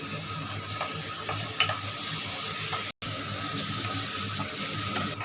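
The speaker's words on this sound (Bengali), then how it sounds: "অল্প হাফ টিস্পুন দিয়ে আমি এটাকে ভালো করে ভাজবো" Turmeric and cumin powder fry in a pan for a lauki kofta curry, giving a steady, close hiss with a few faint clicks and one brief dropout midway.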